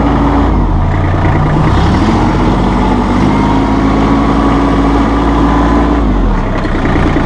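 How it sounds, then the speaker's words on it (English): Loud, close engine drone of a Massey Ferguson hydrostatic tractor running with auto throttle, a steady rumble whose pitch rises briefly then settles and drops near the end. "You can hear auto throttle working for you."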